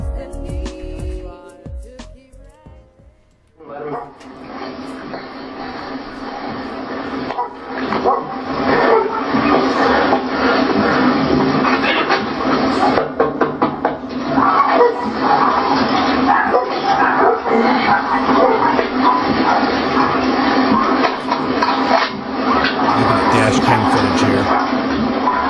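Dog during a roadside car stop, yipping, barking and whimpering repeatedly over a continuous broadband hiss, fairly loud and close, with faint talk at the start.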